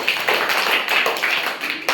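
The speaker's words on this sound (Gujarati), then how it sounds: "તાળી પાડ દો" Children in a primary school classroom clap together for a classmate, a short burst of dense, close applause lasting about two seconds.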